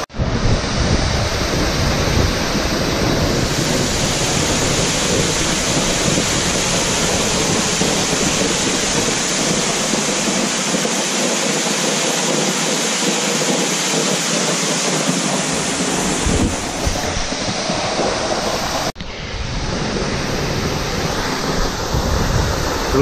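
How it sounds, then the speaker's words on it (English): Triple Falls waterfall on the Buffalo National River pours with a loud, steady broadband roar that stays close and constant for the whole stretch, with no voices. "Really beautiful waterfall."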